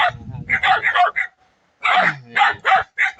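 Several dogs bark in short, loud bursts at close range, with a pause midway before a fresh volley of sharp barks, and a voice is briefly heard underneath.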